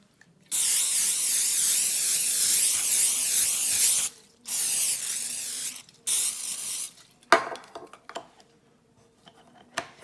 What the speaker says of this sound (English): I'm gonna spray the chicken with some coconut oil.